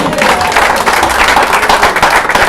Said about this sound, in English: may you clap for Jesus again